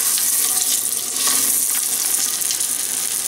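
Meat pieces for coq au vin searing in butter and oil over fairly high heat, a loud, continuous bright sizzle crackling steadily without pause or voices.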